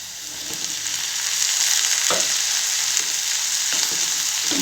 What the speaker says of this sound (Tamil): ப்ரொக்கோலியும் இப்போ நல்லா இந்த பட்டரில் ஃப்ரை ஆகணும்